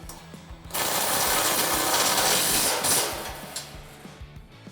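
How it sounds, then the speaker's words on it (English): A 13mm socket ratchet tightens the grille guard brackets on a 2015-2017 Ford F150, producing a close, steady stream of rapid clicking that runs for a few seconds and then tapers into softer, scattered clicks, with no talk. "to tighten these top 2 brackets, we're going to need a 13mm socket and a 13mm wrench"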